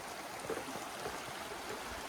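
Creek water flows steadily under a new bridge over Hidden Creek on a backcountry route, a soft continuous rush and trickle at low level with no talk.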